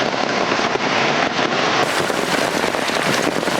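Steady heavy rain pours down outdoors in a dense, continuous hiss with no letup, loud and close, no voices over it.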